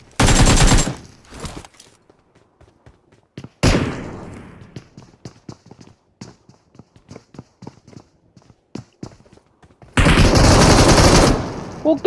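Loud bursts of automatic gunfire in the battle-royale game BGMI during a one-versus-one scrim fight, a long volley opening and another closing, with sparse single shots and quiet clicks in between.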